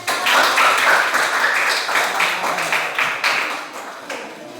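An audience at a group discussion session claps for the first group, a dense burst of applause that starts at full strength and slowly thins and fades.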